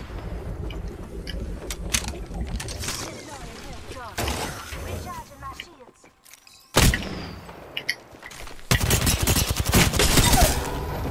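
Rapid gunfire exchanges during a battle royale match featuring Pathfinder and Mirage, dense overlapping shots in busy bursts with a brief lull, then louder heavy firing, mixed with game effects and voices talking.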